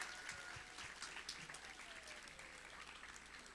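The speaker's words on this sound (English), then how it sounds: "Let's give Mrs. Palmer a round of applause." Audience applause fills a school award ceremony, a steady wash of many hands clapping at moderate distance, continuous and even throughout with no voices over it.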